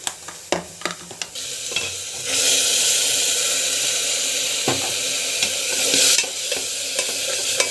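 Food sautés in a pan, with a few spoon knocks and scrapes at first, then a loud steady sizzle and stirring noise that swells and fades near the end, close up and without voices.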